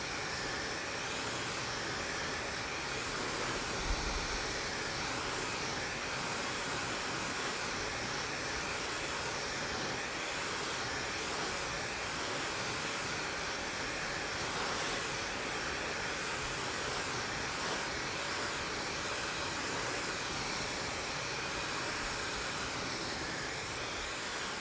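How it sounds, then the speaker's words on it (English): A candy-cane-patterned blow dryer runs continuously, a steady loud rushing hiss of air with no breaks or changes across the whole stretch. "You'll notice on the candy cane blow dryer, my friends, we can change the temperature"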